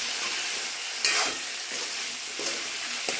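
Peanuts and potatoes sizzle loudly in a pan as they are stirred together, with a constant bright frying hiss and a few soft knocks of the spoon.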